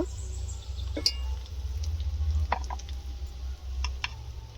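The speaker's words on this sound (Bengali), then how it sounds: "পেঁয়াজ লাল করে ভেজে নিয়েছি" Onions fry in hot oil in a pan with a soft continuous sizzle, a low steady hum underneath and a few scattered ticks and clinks as the spatula moves, no voices.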